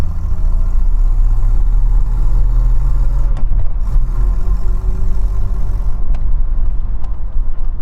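A Chevrolet Opala Diplomata with its 4.1-litre six-cylinder engine idling up close, a loud, deep, steady rumble with a faint rise in pitch midway as it settles back to a smooth idle.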